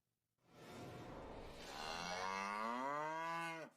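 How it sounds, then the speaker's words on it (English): A red heifer cow moos in ancient Shiloh, Israel: one long, loud, close bellow that rises and then bends upward in pitch at the end, heard alone with no talk. "Well, today, those cows are in ancient Shiloh."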